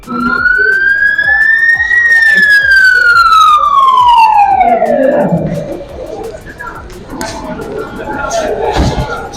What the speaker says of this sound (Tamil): பதினோராவது ஆம்புலன்ஸும் இப்போ உள் நுழைஞ்சிருக்கிறது